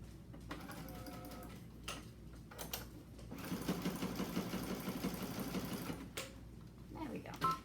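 Sewing machine running a zigzag or satin stitch on a craft bag, quiet intermittent whirring bursts that stop and restart, with a longer steady run in the middle and a voice talking between.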